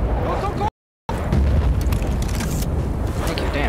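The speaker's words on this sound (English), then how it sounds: "There's more mortars." Mortar explosions sound in a video game as heavy, rumbling booms with deep low-end weight. They come close and loud under excited voices, with a short break in the sound.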